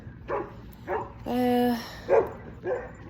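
Dogs barking during an evening walk outdoors: several sharp barks spaced out, plus one sustained whining howl in the middle, fairly close and clear.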